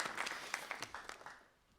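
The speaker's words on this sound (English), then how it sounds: "So I would like to round of applause to Professor Li Shiguang." An audience gives Professor Li Shiguang a round of applause at a CPEC current-affairs event. Distinct claps from many hands stand out at first, then thin out and fade away.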